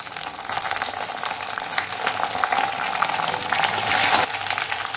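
Chopped tomatoes hit browned onions frying in a pan for a restaurant-style chicken curry, giving a loud, steady, close sizzle that holds for the whole stretch with small crackling bursts.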